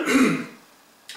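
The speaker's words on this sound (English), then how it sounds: "I'll get rid of that cough in just a minute." A man's throat clearing and a short cough during a basketball coaching talk, loud and close, followed by a brief quiet pause and a faint noise at the end.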